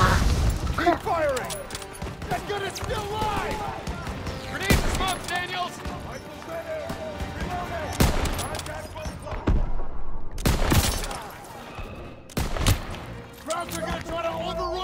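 Call of Duty: WWII battle gunfire: loud, sharp shots and bursts ring out at irregular intervals amid booms and clatter, with voices shouting over the combat throughout.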